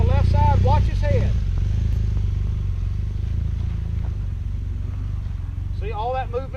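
A BMW motorcycle ridden down through a rut at a rider academy, its engine a loud steady drone throughout with some clatter, while someone talks at the start and again near the end.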